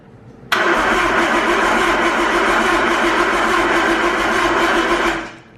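A Nissan Skyline engine cranks and catches, settling into a loud, steady running roar close by for several seconds before cutting off abruptly, with no voices.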